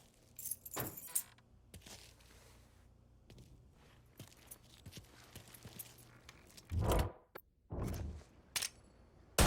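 Car keys jangling in the video game Mafia III, with bursts of metallic rattling and clinks scattered over several seconds and louder rustling thumps toward the end, close and without speech.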